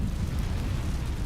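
Roaring whoosh of an Incendio fire spell cast in Hogwarts Legacy, a dense, loud, sustained burst of flame with heavy low rumble.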